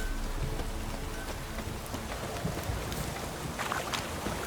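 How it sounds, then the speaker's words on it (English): Drizzling rain falls in The Witcher 3 near a pond, making a steady, fairly quiet patter of droplets that carries on without a break. "Oh, it's drizzling."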